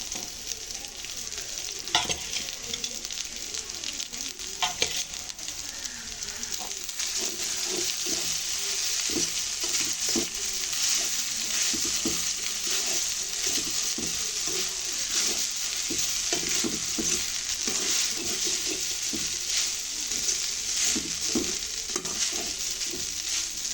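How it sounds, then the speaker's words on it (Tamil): Cooked rice being stirred and mixed into sautéed biryani masala in a pan, a continuous close scraping and stirring with sizzling underneath, steady and loud throughout with no talking. "இப்போ வதங்கிட்டு நீ சோறை போட்டு மிக்ஸ் பண்ணுவோம்"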